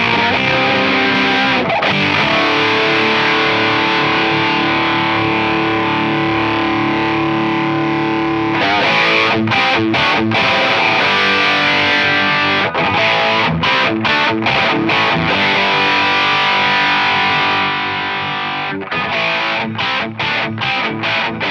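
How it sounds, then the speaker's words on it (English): Overdriven distortion pedal on an electric guitar, sustained chords giving way to choppy, rhythmic strummed bursts, loud and continuous with no voices. "So it's good if you want a bedroom volume distorted sound."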